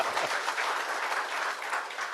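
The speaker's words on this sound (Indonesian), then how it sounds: "Tepuk tangan dulu." Audience applause at an Indonesian railway safety talk show, a steady dense wash of many hands clapping that holds at an even level throughout without voices.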